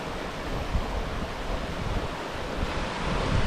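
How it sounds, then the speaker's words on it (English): Steady rushing water of Horse Creek near Greeneville, Tennessee roars continuously, broadband and full, like a creek tumbling nearby, with no voices. "Love the sound of the rushing water."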